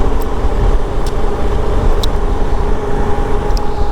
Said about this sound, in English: The bike is running fine.